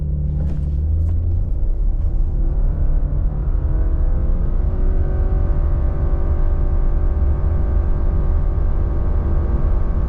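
A 2024 Subaru Crosstrek Wilderness launches hard from a standstill in sport mode with traction control off, its engine droning loudly and rising steadily in pitch through a long unbroken pull toward sixty, heard from inside the cabin.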